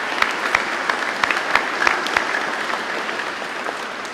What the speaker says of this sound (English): Can we give them another hand of applause?